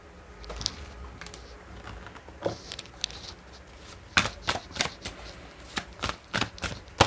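Tarot cards shuffled by hand in a quiet room, starting with soft scattered riffles and building into a run of sharp, close flicks and snaps toward the end.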